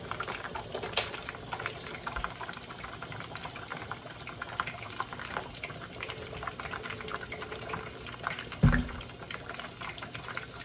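A chicken patty frying in oil, giving a continuous crackling sizzle with fine popping throughout and one brief louder bump near the end, close and steady with no speech.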